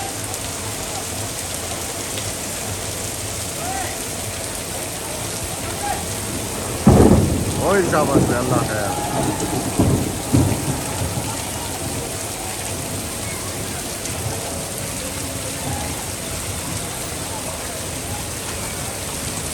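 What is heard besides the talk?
heavy rain with thunder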